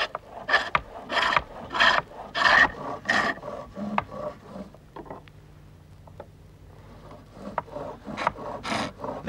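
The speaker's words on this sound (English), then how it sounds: "Using two or three different sized gouges, the work is soon brought to a rough shape" Wood being rough-carved with two or three different sized gouges, a series of loud rasping scrapes in a steady rhythm, a short lull with faint scraping, then more strokes, no talking.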